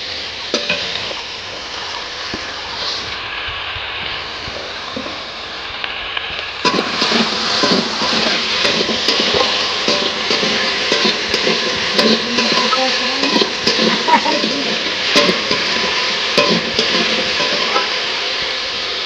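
Mixed vegetables and chilies fry in a hot wok while being stirred, giving a continuous sizzle with repeated scraping strokes that grow louder partway through.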